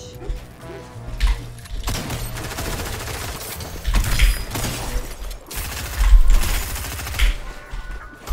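Bursts of rapid gunfire from a marauder enemy in the video game Fortnite crackle in uneven volleys, with louder clusters of shots and booms punctuating a busy in-game soundscape.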